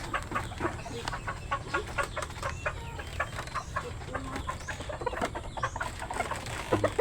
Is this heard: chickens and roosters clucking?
yes